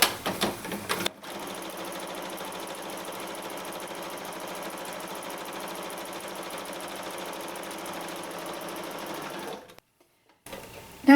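A sewing machine runs steadily, stitching a denim purse made from blue jeans, with a brief burst of handling before and a short pause near the end.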